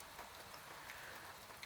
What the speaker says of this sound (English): The rain taps against the glass.